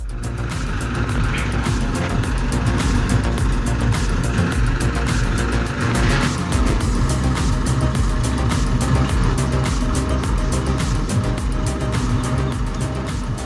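A Timberjack 240 skidder with a 125 HP engine drags two 18-inch ash logs, its engine a loud, steady, continuous drone from nearby with rattling and clatter over the top.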